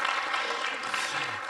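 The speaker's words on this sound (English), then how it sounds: "Yes, you can applaud." Brief burst of audience applause at the close of a conference debate session on preventing learner drop-out, a steady dense clatter of many hands, moderately loud with no talk.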